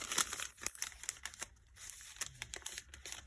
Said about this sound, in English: I just fold it in half